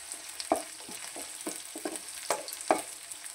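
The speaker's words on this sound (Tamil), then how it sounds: "வெங்காயத்தை உள்ளே போட்டு அது கூடவே கொஞ்சம் பச்சை மிளகா கட் பண்ணி வச்சுருக்கோம், அதையும் உள்ளே போட்டுக்கிறோம். உள்ளே போட்டு நல்லா வதக்குறோம்." Onions and green chillies sauté in a pan for brinjal varuval, with a soft sizzle under irregular close scrapes and clinks of a spatula stirring, no talking.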